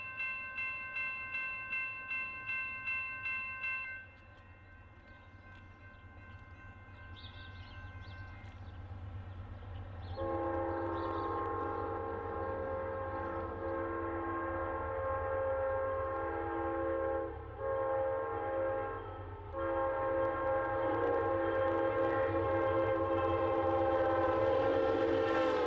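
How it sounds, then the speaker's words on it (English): Amtrak's Capital Limited passenger train roars past on a busy main line through town, a loud sustained rumble and rail noise with a chorded horn sounding in pulses at first, then a long steady horn blast. "Amtrak number 29, the Capital Limited, barnstorms through town"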